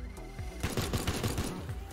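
Shotgun blasts in the video game Teardown, fired while a player tries to open a gate, with a quick run of roughly six punchy booms in steady rhythm after a quiet start.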